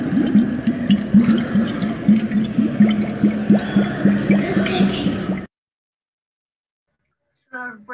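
A Chimú ceramic whistling vessel mimicking a spring's water welling from the ground, giving a steady burbling, dripping liquid sound for about five seconds that stops abruptly, followed by a brief tonal burst near the end.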